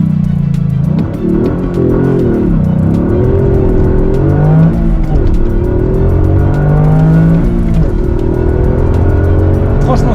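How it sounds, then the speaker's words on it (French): A Toyota GR Yaris three-cylinder engine revs hard and continuously, its pitch climbing and dropping through gear changes, loud and close with a throaty buzzing tone. "à l'intérieur, on entend bien le 3 cylindres chanter"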